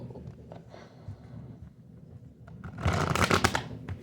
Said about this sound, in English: That's a better shuffle.